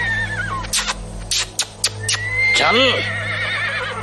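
A horse neighs with a descending whinny during a night ride, following a few sharp clicks or hoof-like knocks; the call is fairly close and loud over a steady low background hum.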